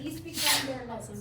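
A sneeze bursts out in a classroom, one short sharp broadband burst cutting through a teacher's ongoing speech, fairly near and moderately loud.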